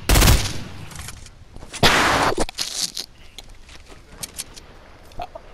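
Gunfire in Fortnite: a loud close burst opens, another heavy blast follows about two seconds in, then scattered fainter shots and clicks trail off.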